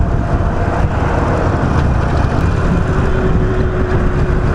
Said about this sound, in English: This is the loudest exhaust I've ever heard about.